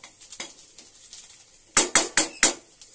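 A spoon scrapes and knocks against a pan while ingredients are stirred, with four sharp metallic clanks in quick succession after softer, quieter stirring sounds.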